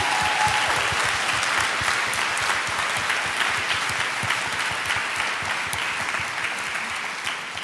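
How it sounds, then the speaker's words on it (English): Conference audience applauding steadily after a call to stand, a dense wash of many hands clapping that stays loud and even throughout, with a faint voice heard briefly near the start. "let's give them a round of applause"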